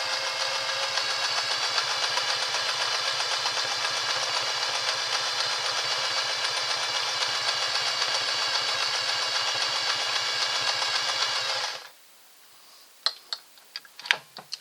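A Singer 403A sewing machine runs steadily at speed, double-needle stitching in a fast, even mechanical whir with rapid ticking for about twelve seconds, then stops abruptly, leaving a few faint clicks and knocks.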